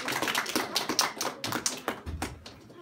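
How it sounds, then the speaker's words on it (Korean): A lecture audience gives scattered applause: a run of uneven, crisp hand claps at close range, rising and thinning over a few seconds with no talking over them. "박수 한번 쳐주시면"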